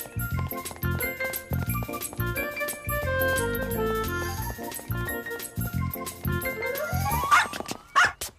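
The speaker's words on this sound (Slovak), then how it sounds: "Ten pes." A dog in an animated children's show barks a couple of times near the end, breaking through a steady bed of background music.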